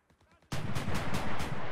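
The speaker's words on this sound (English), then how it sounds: "Your puny automatic weapons are no match." Automatic weapons fire in a World War II video game set in the defence of Berlin, a quiet lull broken abruptly by loud, sustained bursts of rapid gunshots that continue without pause.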